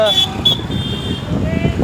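Busy road traffic rumbles close by in the Idar town market while car horns honk in short bursts; people talk over the noise.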